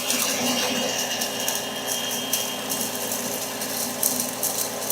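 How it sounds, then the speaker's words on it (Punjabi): A machine grinds maize into fine goat feed, giving a loud, continuous mechanical whirring and rattling that runs steadily throughout. "ਆ ਮਸ਼ੀਨ ਦਾ ਮੂੰਹ ਖੋਲ ਦਿੱਤਾ ਹੈ ਤੇ ਹੁਣ ਮਕਈ ਵੀ ਬਰੀਕ ਹੋਣਾ ਸ਼ੁਰੂ ਹੋ ਗਈ ਹੈ।"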